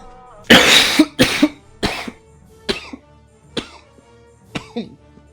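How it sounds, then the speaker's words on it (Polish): A person coughs repeatedly up close, several sharp bursts in quick succession tapering into smaller coughs and throat clearing. "Jeszcze mnie kurde kaszel atakuje często."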